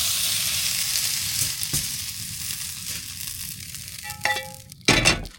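Cheese fries in a pan under a tortilla with a steady, close sizzle. A few light clinks and scrapes of utensils come near the end.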